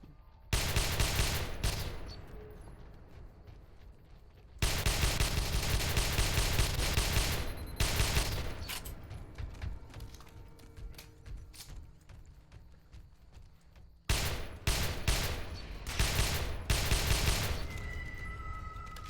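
Suppressed gunfire in the video game Interstellar Marines comes as several bursts of rapid muffled shots separated by quieter pauses, with no voices.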